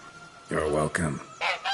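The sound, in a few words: goose honking in the video game Witcher 3 Blood and Wine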